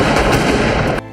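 Gunfire in a small warehouse at the end of the crime film Reservoir Dogs: a loud, dense burst of shots lasting about a second, then cut off abruptly.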